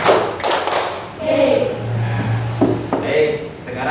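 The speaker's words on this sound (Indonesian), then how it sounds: "Tepuk dua." A class of schoolchildren claps together twice, producing short sharp hand claps followed by a few softer thuds, with voices in the room.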